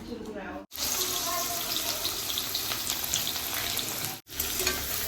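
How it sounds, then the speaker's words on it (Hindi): Onions fry in a pan over a high-to-medium flame, a dense, steady sizzle that briefly cuts out twice, with light stirring in the background. "प्याज को मैं हाई टू मीडियम फ्लेम में यहाँ फ्राई कर रही हूँ"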